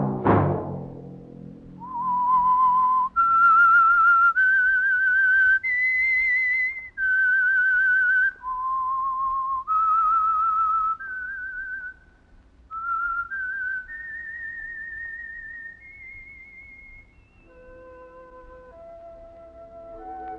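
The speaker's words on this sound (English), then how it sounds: "Let that whistle be your signal for the Signal Oil program, The Whistler" A clear, solo whistled signal tune opens a Signal Oil radio drama, a melodic line of sustained, wavering notes stepping up and down in pitch, after a short opening hit, with no speech.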